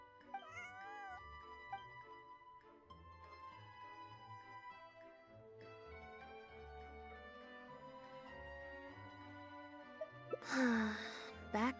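A cat meows a few times in a quiet indoor video-game scene, set against soft, continuous background music, with a louder burst near the end.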